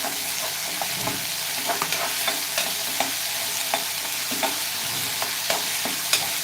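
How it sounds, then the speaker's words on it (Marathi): Onions and spices sauté in a pan for a cauliflower and potato curry, giving a steady loud sizzle broken by regular scraping stir strokes throughout, with no talking. "कांदा चांगला लाल होईपर्यंत आपल्याला सर्व साहित्य परतून घ्यायचं आहे"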